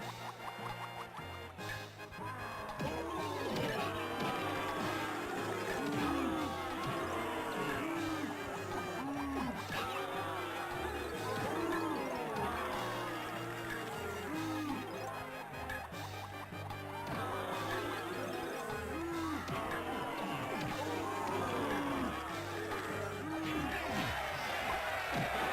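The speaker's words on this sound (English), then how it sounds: "I am being booed by the Kremlings. You can hear them you can hear them cheer when I got hit" Jeering and cheering from a crowd of Kremlings in the Donkey Kong 64 video game, a dense, steady wall of crowd noise lasting throughout, blended with busy game music and effects.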